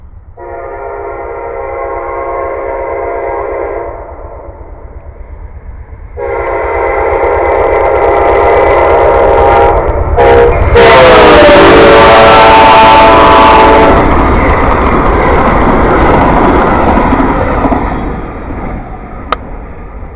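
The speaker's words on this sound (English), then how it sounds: "Alright, here comes Amtrak." Amtrak passenger train sounding long loud horn blasts, then roaring past close by with rumbling wheels and a rushing wash of noise that fades slowly at the end.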